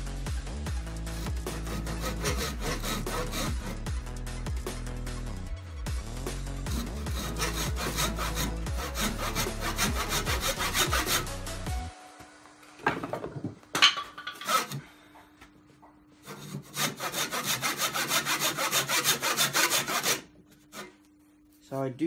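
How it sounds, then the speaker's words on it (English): A fine-toothed tenon saw cuts wood held in a lathe chuck, with fast, rhythmic rasping strokes that run steadily, pause, then start again in shorter bursts. "Obviously I'm using a tenon saw because of how fine the TPI is"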